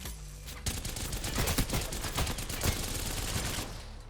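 Video-game gunfire erupts after a quiet half-second into a loud, continuous automatic stream of rapid shots for about three seconds, then cuts off.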